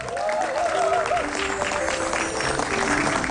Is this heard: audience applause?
yes